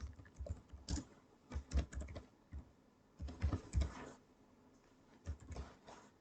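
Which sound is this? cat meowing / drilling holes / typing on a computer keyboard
typing on a computer keyboard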